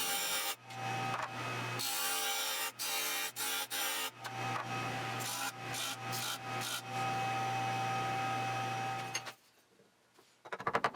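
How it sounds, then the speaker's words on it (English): A disc sander grinds wooden pieces for a dog kennel down to length and chamfers their edges, giving a loud steady motor whine broken by repeated short bursts of abrasive rubbing, then a brief quiet pause before it starts again. "with the disc sander, I could grind them down to their final lengths and then put a small chamfer on each one of the"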